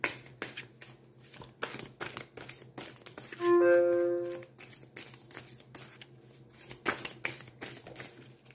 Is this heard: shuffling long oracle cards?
yes